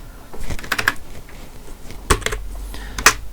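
Typing code for a Python tutorial on a computer keyboard, a few scattered clicks and short bursts of keystrokes with pauses between them, close and fairly clear, with no talking.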